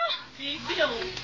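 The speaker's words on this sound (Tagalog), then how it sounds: "Bibe." A brief, nasal honking call from a duck, heard up close over a noisy background.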